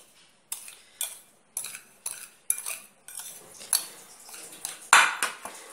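A spoon stirring sugar and cinnamon together in a bowl, making a series of sharp clinks and scrapes against the dish at a steady rhythm, close and fairly loud, with no voices.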